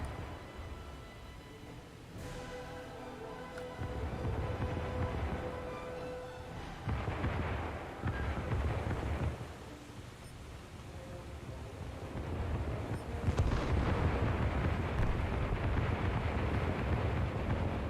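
Deep, rumbling explosions from bombing in an arcade coastal naval battle game. Dull booms swell over a constant engine-and-water roar, with radio-style voices faintly underneath.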